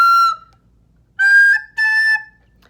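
Shrill, squeaky whistling from a recorder overblown too loudly, three piercing tones: one short blast, a pause, then two sustained squeals in quick succession.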